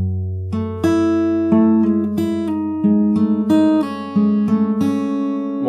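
Acoustic fingerstyle guitar plays a slow, emotional chord progression, plucked notes ringing over a sustained bass, each new pluck arriving about every second or so, close and clear with no talking.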